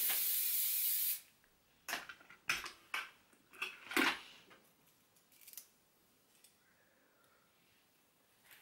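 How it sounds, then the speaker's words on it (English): A long continuous aerosol hiss from a spray can, close by, followed by a few short bursts and soft handling clicks. "spray a good bit of hairspray on it."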